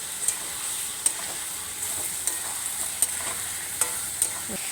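Boiled cauliflower and potatoes are sautéed in a pan, a steady sizzle with regular scraping stirs of the spatula knocking against the metal, heard close and alone.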